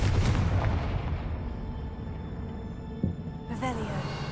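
A Confringo blast spell cast in Hogwarts Legacy lands as a burst of booming impacts at the start, with a decaying rumble, a short pop around three seconds and another crackling burst near the end, all under game voices.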